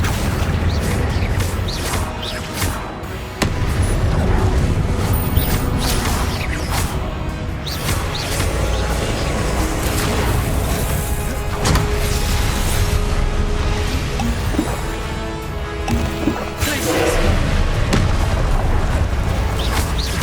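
Spell combat in the Hogwarts Legacy video game: a dense, continuous barrage of booming blasts, crashes and bursting impacts layered over a loud rumbling game soundtrack, with no let-up across the whole stretch.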